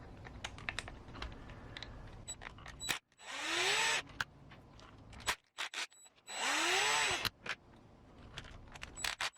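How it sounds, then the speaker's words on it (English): A power tool backs screws out of a Knight Customs IFS lift, two loud whirring bursts of about a second each, separated by clicks, taps and handling noises from the work nearby. "you're going to want to remove these screws right here."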